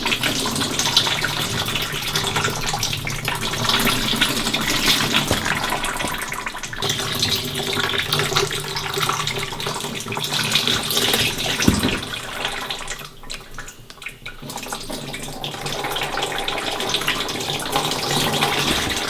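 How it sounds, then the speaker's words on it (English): Ceramic crystalline glaze poured over a pot in a pottery studio, a steady continuous liquid pour and splash like running water, loud and close, with a brief dip in flow near the end. "So I'm going to pour another pour over this whiter glaze so that I can get that thickness up there."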